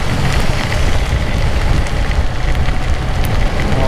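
Heavy rain and rushing wind noise on an expressway during a ride on a Yamaha MT-10 SP motorcycle, a loud, dense and unbroken wash with no speech.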